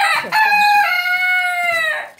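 A Serama, the world's smallest chicken breed, gives a single drawn-out, bright call close up, holding one tone for about a second and a half and tailing off at the end, with a few short noisy sounds before it.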